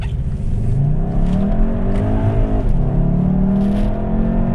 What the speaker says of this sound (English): I'm going to show you guys how this car sounds when you accelerate.